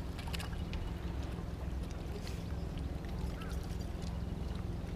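Small boat trolling motor running on Lake James, a steady low hum and churn that holds throughout, with water lapping close by and faint ambient lake sound.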